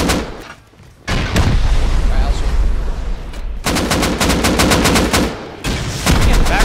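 Automatic gunfire in the survival video game Rust, with dense rapid bursts that cut off abruptly and then resume in loud rattling volleys, and several short pauses between them.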